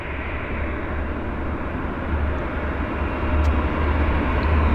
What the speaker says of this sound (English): there's the trademark sound of the engines starting on right there